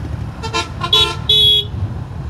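Two short vehicle horn blasts, the second longer, sound over steady road and engine rumble while a rider on a Suzuki Gixxer Fi ABS motorbike overtakes traffic, with a bus and other bikes ahead.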